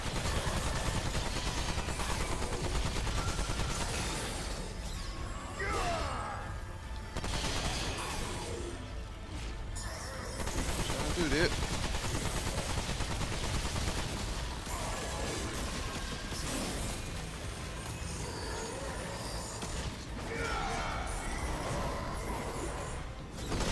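Sustained bursts of gunfire from the player's weapon during a Venom boss battle in the video game Remnant 2, loud and dense with rapid repeated shots and crashing impacts throughout.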